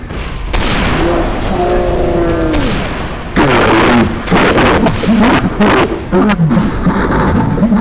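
A gas can shot and exploding in Left 4 Dead 2, a loud booming blast followed by a dense burst of crackling gunfire and impacts, with voices faintly under the din.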